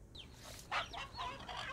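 Chickens cluck softly in the video game Fable, giving a few faint, scattered bird calls over quiet background ambience.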